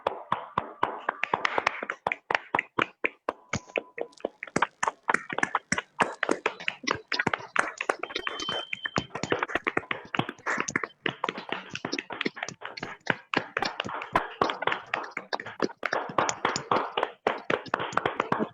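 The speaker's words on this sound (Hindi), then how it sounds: "एक जोरदार तालियों के साथ अनिल सर आपका स्वागत करते हैं" Sustained, loud audience applause from a live network-marketing festival crowd welcoming a speaker to the stage, with dense overlapping hand claps running steadily throughout and no talking.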